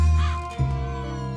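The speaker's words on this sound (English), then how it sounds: "Otherwise, he'll just keep meowing." Yuri the cat in a Nancy Drew game lets out two close, clear meows in quick succession, the second lower and more drawn out, with no talking.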